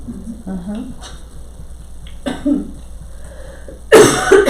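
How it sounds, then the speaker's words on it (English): A person coughs a few times in short, harsh bursts, followed by a louder, rougher cough near the end. "Feel a coughing attack coming on."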